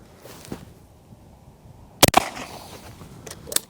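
A single sharp shotgun blast from a Rizzini BR552 while shooting squirrels outdoors, a loud close crack followed by a quick echo, then faint rustling and a few small clicks in a quiet field.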